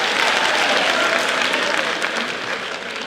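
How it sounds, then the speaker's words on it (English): Audience at a million-women event in a Catholic University hall giving a round of applause, a dense, steady burst of many hands clapping close by that fades slightly toward the end. "We also give them a clap"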